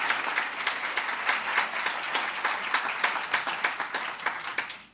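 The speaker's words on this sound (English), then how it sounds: "I want you to help me give her another round of applause." Audience at a Patriotic Millionaires spring symposium gives a dense round of applause with many hands clapping, steady throughout and fading out at the end.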